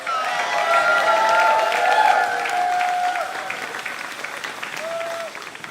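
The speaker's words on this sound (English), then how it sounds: "Let's give them a round of applause." A Purim show audience gives a round of applause, a steady wash of clapping that fills the room for several seconds, with tonal music or voices running underneath before it thins out.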